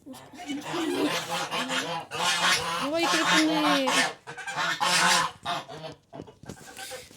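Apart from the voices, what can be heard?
Muscovy ducks calling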